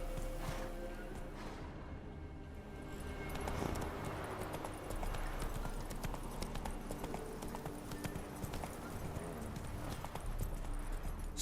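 Roach, a horse in The Witcher 3: Wild Hunt, trots with steady rhythmic hoof clip-clops on the ground, close and continuous beneath faint game ambience.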